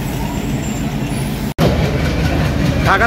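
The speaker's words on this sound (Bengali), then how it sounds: "ঢাকা থেকে ছেড়ে আসা খুলনা অভিমুখী নকশিকাঁথা কমিউটার হালসা স্টপেজ দিয়ে চালল" The Nakshikantha commuter train, running from Dhaka toward Khulna, roars past the Halsa stop in Bangladesh. Its loud, close rumble and clatter fill the clip, with a brief break partway through.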